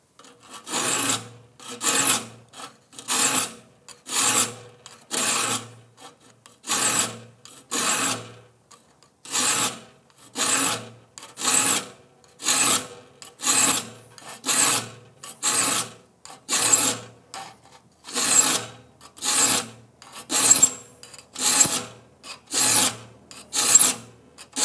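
Rip saw being sharpened with a hand file, the file held square to the saw face, producing about twenty evenly spaced, crisp rasping strokes close up, each separated by a short pause, with no voice.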